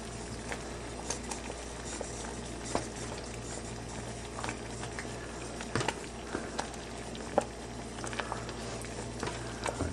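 Espresso sea salt caramel boils in a pot with a soft, continuous bubbling patter and occasional faint scrapes of stirring, quiet and close, without speech.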